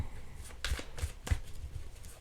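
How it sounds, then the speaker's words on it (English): A deck of playing cards being shuffled by hand, a series of crisp riffling bursts at close range, fairly quiet with short pauses between them. "I have to shuffle this again because these are the same cards"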